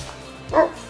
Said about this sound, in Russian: Большая, добрая собачка.